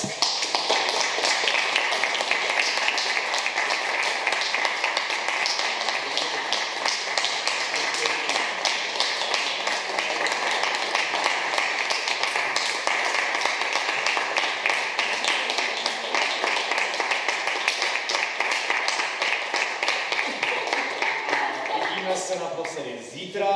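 Audience applause at a live stage debate event, dense and steady clapping from a sizable crowd, loud and close, lasting over twenty seconds before tapering off at the end.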